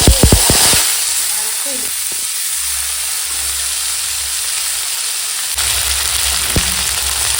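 Dried red chillies tempering in hot oil for a Bengali fish curry: a loud, sharp sizzle bursts with crackling at the start, then settles into a steady hiss with a few faint pops, close and without talk.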